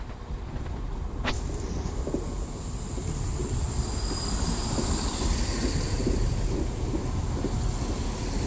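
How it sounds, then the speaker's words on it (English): Northern class 170 diesel unit from Bridlington rumbles through a station with broadband roar, wheel noise and wind buffeting the microphone, growing slightly louder as it passes close by. "So here we have a class 170 from the Northern from Bridlington."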